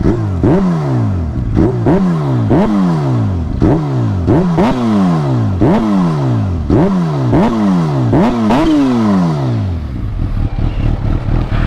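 A supercharged Kawasaki Ninja H2 motorcycle with a Brock's slip-on exhaust revs repeatedly in sharp, rising bursts, each blip climbing and falling, loud and close, settling into a rumbling idle at the end, on a street.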